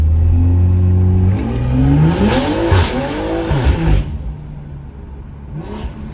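A BMW M340i on drag radials is power-braked and launched, its engine revving hard as the tires break loose and squeal, then the sound fades as the car pulls away.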